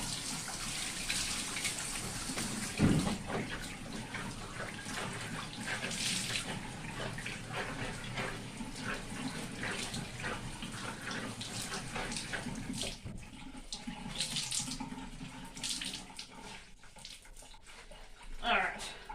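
Hot water runs steadily from a tap for most of the time, wetting fabric for tie-dyeing, a constant splashing rush with faint handling sounds.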